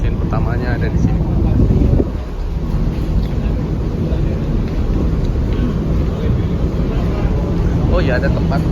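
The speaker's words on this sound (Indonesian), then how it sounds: "Mesin utamanya ada di sini." The main engine of the ferry KM Dharma Kencana VII fills the engine area with a loud, continuous, broadband roar and rumble that stays steady throughout, masking other sounds.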